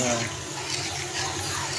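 Hot water pours into a pan of cooked-down masala for a shol fish curry, a short, steady, close rush of liquid.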